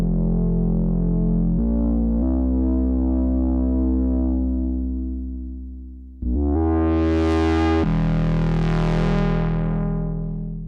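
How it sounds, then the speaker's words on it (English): Low, droning Ensoniq ESQ-1 synthesizer tones from sine, square and saw waves hold and shift in steps, then a brighter, buzzier filtered wave sweeps open and closes again. "you hear the rumble of the sine wave, you hear the aggressiveness of the square wave"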